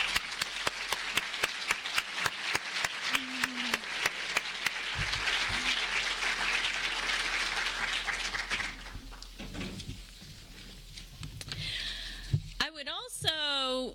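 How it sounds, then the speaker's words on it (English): Audience applause in a lecture hall, dense clapping from many people that swells and holds, then thins out toward the end as a voice and other noises come in. "would you please stand up and we'll give you a round of applause"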